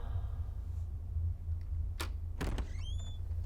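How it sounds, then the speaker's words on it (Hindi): A house door being opened: two sharp knocks of the latch and handle, then a short, rising creak of the hinges, heard close over a low room hum. "मैं जाकर दरवाजा खोलता हूँ"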